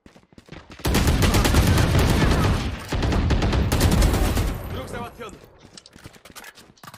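Loud, dense bursts of heavy gunfire from a big gun in a video game, sustained for several seconds with a brief break, while players talk over it.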